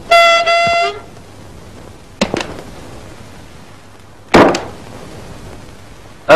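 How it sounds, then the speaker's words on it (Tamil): A car horn sounds in a long blast, followed by a few sharp louder honks at intervals, with quiet traffic between. "ஹார்ன் அடிக்கிறேன்ல, காது கேட்கல?"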